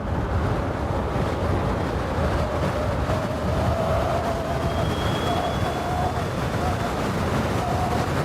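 Sondors Metacycle electric motorcycle at full throttle in sport mode, a steady loud roar dominated by wind rush with a faint rising motor whine through the run.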